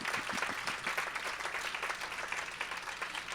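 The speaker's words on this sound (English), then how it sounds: "Let's give all of the volunteers and all of you a round of applause." Applause from the audience at a city council candidate forum, a steady wash of many hands clapping at moderate volume for the whole stretch, with no voices over it.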